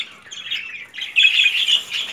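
Caged budgerigars squawk and chirp in a dense, continuous chatter of bright, scratchy calls. The sound swells louder partway through and stays close and busy to the end.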